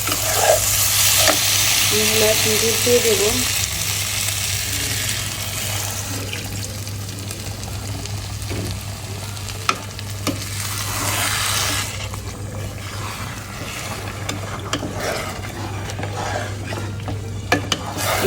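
Rice being sautéed in a pan for biryani, with a steady, fairly loud sizzle and scraping stir strokes that continue throughout, and no voices.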